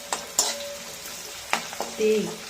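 Lemon pickle with curry leaves stirred in a pan, a few sharp spoon scrapes and knocks over a soft, steady sizzle, close and moderately loud, with no talking.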